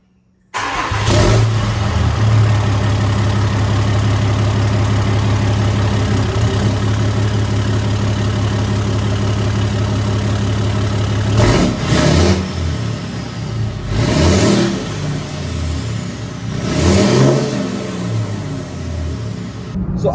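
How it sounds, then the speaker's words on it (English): A stock 2nd-generation Cummins diesel pickup truck fitted with an AirDog fuel system cranks and fires up, settles into a loud steady idle, then revs hard three times in separate surges near the end. "I'm going to get this truck started up."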